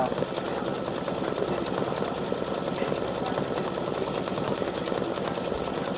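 A sewing machine runs a zigzag satin stitch around an appliqued flip-flop shoe design, giving a fast, steady mechanical chatter of needle strokes that continues evenly throughout at moderate loudness.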